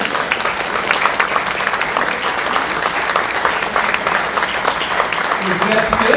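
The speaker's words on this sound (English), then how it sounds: "A round of applause for our models." Sustained audience applause at the close of a fashion show, a steady dense clapping crowd with some voices mixed in.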